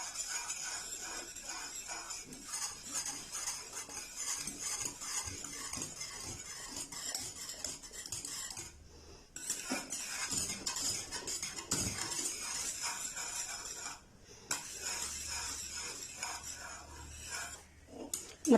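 A spoon scrapes and stirs continuously through thickening cookie-based dessert batter with melting butter in a pan, a soft sizzle beneath the close, rhythmic metallic strokes with a couple of brief pauses.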